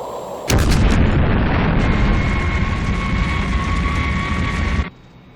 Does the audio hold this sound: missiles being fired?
yes